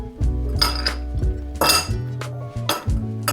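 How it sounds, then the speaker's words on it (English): Ice cubes clatter and clink into a cocktail glass in a few quick bursts, close and fairly loud, over a steady low background tone. "We'll fill our glass with ice."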